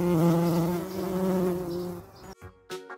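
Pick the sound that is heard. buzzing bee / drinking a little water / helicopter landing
buzzing bee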